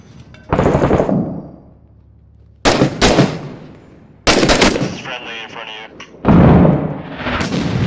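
Mortar rounds in the Iraq war shooter Six Days in Fallujah land as four loud, separate blasts a second or two apart, each one booming hard and then trailing off into rumble, with some gunfire crackle between them.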